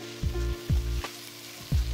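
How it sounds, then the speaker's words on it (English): Oats toasting in oil in a hot pan, a steady close sizzle broken by several rhythmic scraping tosses about half a second apart. "we're gonna add the oats straight to this hot pan. We're going to toss and toast them in here for 1 minute or 2"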